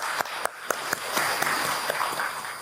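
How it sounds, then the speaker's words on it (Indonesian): Scattered clapping from an audience at a formal Indonesian handicraft council installation ceremony, a few sharp claps standing out over a soft, moderate ripple of hands. "Boleh tepuk tangannya untuk Dekranas Indonesia."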